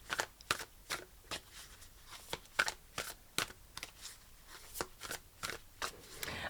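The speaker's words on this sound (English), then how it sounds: "I'm going to finish off by pulling you an Angel and Ancestors Oracle card" Angel and Ancestors Oracle cards shuffled by hand in a series of quick riffling bursts, crisp and close, repeating irregularly with short pauses and no talk.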